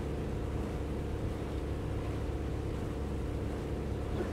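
A War Thunder aircraft engine in a French tier 1 simulator match hums as a steady, car-like drone, low and unbroken with no other sounds over it.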